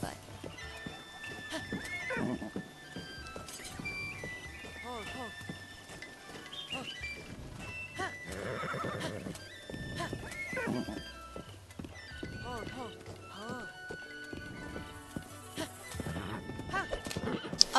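In Zelda: Breath of the Wild, a horse clip-clops at a walk inside a village and lets out whinnies, quiet and close, with a person talking over much of it.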